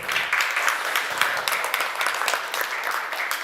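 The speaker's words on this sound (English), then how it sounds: "Let's give him a round of applause." Audience applause at a conference on domestic financial resource mobilisation, a dense, steady patter of many hands clapping together without pause, fairly close and filling the room, with no voices rising above it.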